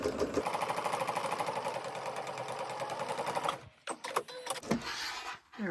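A sewing machine stitches fabric in a scrap-busting project, a fast steady rhythmic chatter for over three seconds, then stopping and restarting in short bursts with handling noises between.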